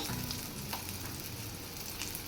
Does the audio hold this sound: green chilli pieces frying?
yes